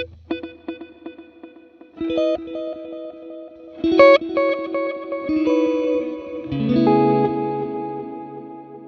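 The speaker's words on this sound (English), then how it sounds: "then it turns into reverb in a really pretty way" Guitar notes through a Fractal Audio modeler's quarter-note 500-millisecond delay ring out with repeating echoes that smear into a lush, shimmering reverb wash, building in layers.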